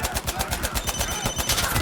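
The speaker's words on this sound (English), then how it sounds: "Okay, I'm shooting back." Rapid automatic gunfire in the video game Insurgency: Sandstorm, a fast steady stream of sharp shots with no gaps, loud and close, with faint voice chat mixed underneath.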